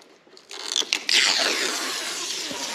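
Cardboard and plastic packaging of a new connected robot vacuum cleaner being unboxed, with crinkly rustling and creaking, a few sharp crackles early on, then steady close-up scraping and sliding with no talk.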